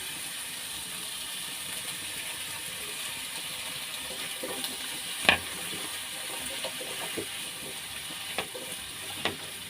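Squash and shrimp paste sautéing in a pan in a Filipino kitchen, with a steady soft sizzle, occasional sharp clacks of a utensil against the pan, and a faint background hum.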